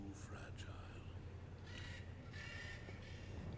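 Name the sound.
bird cawing in the video game Dante's Inferno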